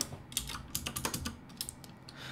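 Quick bursts of clicky keystrokes on a computer keyboard while entering code, irregular and close, with short pauses between runs of typing and no talking.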